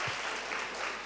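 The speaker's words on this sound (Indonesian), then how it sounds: "Boleh tepuk tangan dulu untuk teman-teman yang milenial" Audience applause at an Atomy seminar in Indonesia, a dense, steady wash of many hands clapping at moderate level, filling the whole short moment without a voice on top.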